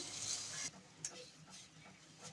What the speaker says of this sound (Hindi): मिक्स करेंगे अच्छी तरह से